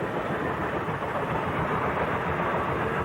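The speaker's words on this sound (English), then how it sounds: "The trains you can hear behind." A steady, loud rumble of a passing train fills the whole stretch, continuous and broadband with no pauses.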